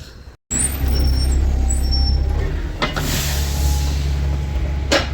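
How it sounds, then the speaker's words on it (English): A Stagecoach Sunderland bus pulls up at a stop with a loud, steady engine and road rumble, and two sharp hisses of its air brakes come about two seconds apart. "here comes my bus, I think, yes."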